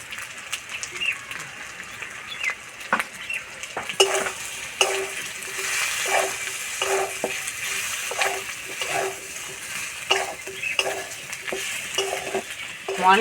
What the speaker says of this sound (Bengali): সঙ্গে আলু খুব ভালো করে কষানো হয়ে গেছে